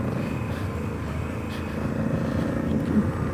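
A Honda Africa Twin CRF1100 motorcycle pulls away hard on Bridgestone tyres, its engine a steady, close, low rumble that swells a little toward the end, with no one speaking.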